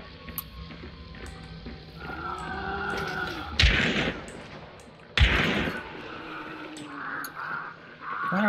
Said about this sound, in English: What are they shooting?